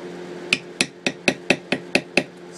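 A maul strikes a beveling tool on leather, tapping out a steady run of eight sharp, evenly spaced hits, close and clear with no talk.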